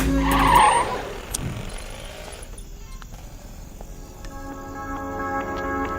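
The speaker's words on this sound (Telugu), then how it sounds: "బండిని పక్క ఆపుకోరా" Car pulling over and stopping on a road, a brief tire skid and engine surge at the start, then a low steady idle rumble with faint background tones.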